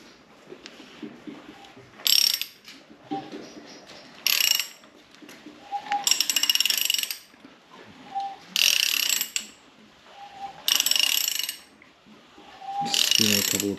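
Honda K24 engine with no oil, spun over by hand with its pins removed, giving a series of short ratcheting, clicking bursts at irregular intervals, close and fairly loud, with pauses between.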